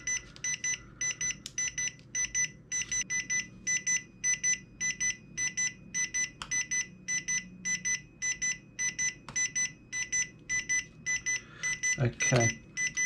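Rapid electronic beeps from the speed controller of a Tamiya Hornet RC buggy repeat in a steady, evenly spaced series, fairly loud and close, over a low background hum, with a brief clatter near the end.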